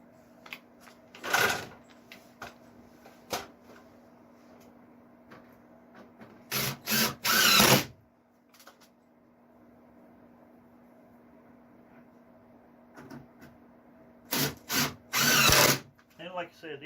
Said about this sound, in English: these are all deck screws, so being exposed won't hurt